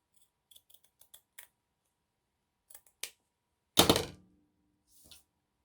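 Scissors snip through loose-weave burlap fabric in a series of short, sharp, close cuts, followed by one longer rough cutting rasp, with no talking.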